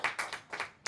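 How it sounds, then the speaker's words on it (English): An audience at an executive master class gives a short, quiet burst of scattered hand claps, a few distinct claps over less than a second. "A big hand clap for James."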